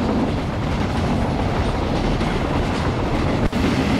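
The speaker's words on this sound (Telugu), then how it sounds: "ట్రైన్ ట్రైన్ గైస్ ఇక్కడ చూడండి, స్టేషన్ అయితే క్రాస్ చేసుకొని వెళ్ళిపోతుంది" A WAP4 electric locomotive hauling oxygen tank wagons on an Indian railway line in Train Simulator Classic, a loud constant rumble of wheels on rails with a steady rolling roar and one brief dip near the end.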